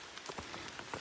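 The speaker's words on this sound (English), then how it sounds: "if it's raining all night" Rain patters on a hiking trail in Massachusetts, a soft continuous hiss of falling water with scattered distinct droplet taps heard close by.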